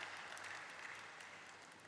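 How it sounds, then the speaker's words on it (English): Applause from an audience at a stock exchange listing ceremony follows a ceremonial lamp lighting, a dense, even patter of many hands clapping, heard faint and somewhat distant throughout. "So let's applause for this beautiful ceremonial lighting of the lamp"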